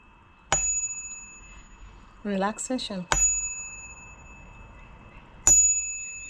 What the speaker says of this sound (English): Sounds like a yoga bell